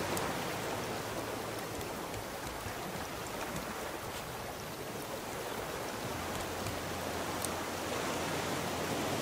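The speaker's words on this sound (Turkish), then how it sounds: "Yağmur başladı abi" Steady rain hisses in the Raft survival game, a constant wash of drops that stays even and moderately faint throughout, with no voices.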